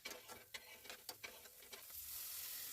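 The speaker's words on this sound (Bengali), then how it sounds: "এবার এই মশলাটাকে খুব ভালোভাবে কষিয়ে নিতে হবে" Spices with cumin and chopped coriander being stir-fried in a pan for a Bihari-style spinach tadka, giving a steady sizzle that builds toward the end, broken by scraping stirs of the spoon.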